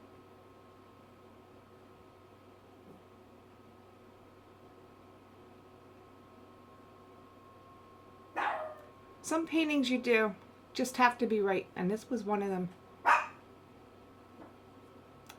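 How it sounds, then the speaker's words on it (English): A pet dog barks indoors in a painting studio, a burst of sharp, close barks arriving midway after a quiet stretch, mixed with a person talking. "And my dog, who you hear barking, agrees."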